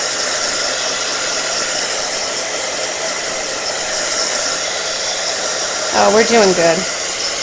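A hair dryer blows steadily and loudly on gesso and paint, a constant broadband whoosh running throughout, with a brief spoken remark near the end.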